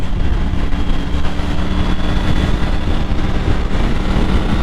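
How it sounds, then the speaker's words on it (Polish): Triumph 900 Rally Pro motorcycle engine pulling steadily while riding, a loud continuous drone with wind rush and a faint whine, no talking. "I ten silnik po prostu ciągnie."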